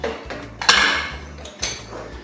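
Sugar and salt stirred together in a bowl, with a few sharp clinks and scrapes of a utensil against the bowl, close and fairly loud over a low steady hum.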